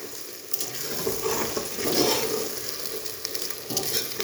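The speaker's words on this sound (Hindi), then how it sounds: "लहसुन अदरक के पेस्ट को शामिल करने के बाद आपने 2 मिनट के लिए फ्राई करना है" Garlic ginger paste frying with onions in a pan, a steady close sizzle with occasional stirring scrapes and bubbling swells.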